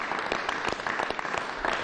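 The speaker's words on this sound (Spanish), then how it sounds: "Ese aplauso fue para la batalla de Carabobo" An audience clapping in a meeting room for a mention of the Battle of Carabobo, a dense, continuous round of applause at moderate volume, close and steady for the whole stretch.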